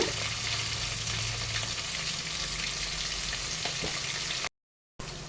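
Onion fries in a pan for Telangana bagara rice, a close, even sizzle with faint crackles that runs steadily, then drops out briefly before resuming.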